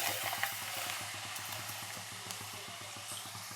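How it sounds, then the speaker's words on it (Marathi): Homemade papad crackles faintly as it fries in hot oil in a home kitchen, a soft steady sizzle over a low rhythmic hum, with no talking. "आपण पापड तळून घेऊया आता"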